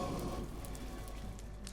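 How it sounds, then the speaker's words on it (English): Steady rain falling in the Minecraft video game, a continuous soft patter and hiss of drops on surfaces, even and moderately loud throughout with no talking. "Oh no, it's raining."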